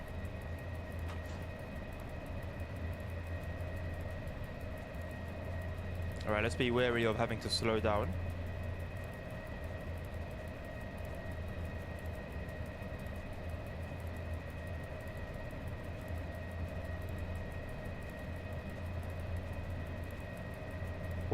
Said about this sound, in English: One 32029 cargo train being pulled by a 186.